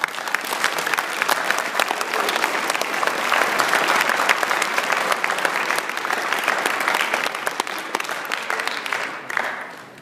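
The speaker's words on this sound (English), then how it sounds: "Let's give a big round of applause to the U.S." Steady, dense applause from a large crowd at the 2016 Army All-American ceremony, loud and sustained throughout, with a slight swell in the middle before tapering near the end.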